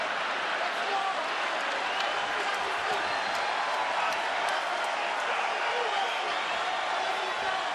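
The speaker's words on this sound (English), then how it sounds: "Crowd getting behind these athletes here in the waning seconds of this one." Spectators at a UFC 213 bout produce a continuous loud roar of cheering and applause that fills the arena without a break, and a commentator speaks over it.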